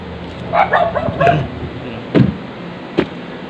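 A few short dog barks sound from a distance in the mountains, spaced out over a few seconds with quiet gaps between them.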